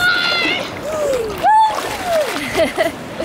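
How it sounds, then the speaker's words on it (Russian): Waves wash and splash around close by, a steady rush of water, while excited voices call out over it. "Смотри, какая волна идет"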